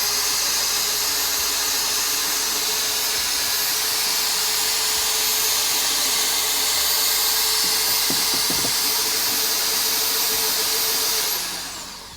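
A power mixer stirs honey into a 23-litre mead batch, a loud, steady whirring drone that runs unbroken and close for most of the stretch before winding down at the end.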